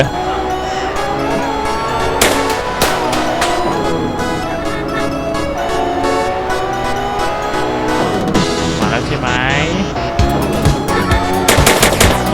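Rapid bursts of gunfire aimed at police in GTA San Andreas, with loud repeated shots cracking over game music and engine noise, and sharper volleys toward the end.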